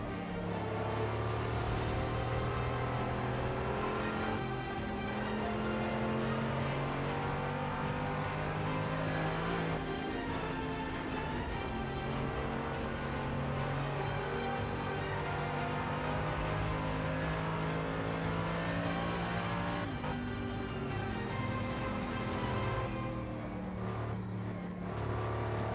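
A race car engine drones and revs continuously on the Nordschleife in Assetto Corsa, a loud steady whine that climbs and drops with throttle changes through the whole lap section.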